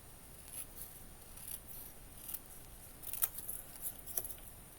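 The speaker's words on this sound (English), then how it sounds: "So I'm just gonna start here with cutting out a corner." Scissors snip out a corner of a small craft piece for a miniature cat cafe garden room box, several quiet close cuts in an irregular rhythm, faint against a low background hiss.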